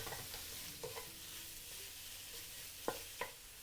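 Garlic butter soy prawns fry in a pan, a steady close sizzle with a couple of sharp utensil scrapes near the end.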